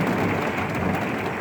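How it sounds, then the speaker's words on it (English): Heavy rain pours down on an RV in a thunderstorm, a dense, continuous roar of rain with a low rumble underneath, steady and loud throughout without any voices. "It is pouring outside"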